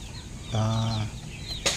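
Young chickens from early hatches near a new breeder coop give a short, close cluck-like call over a steady background, followed by a brief rustle or flutter.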